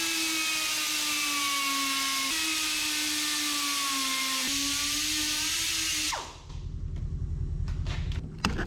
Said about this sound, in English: I just had to grind out a little more so we could clear for a radiator hose.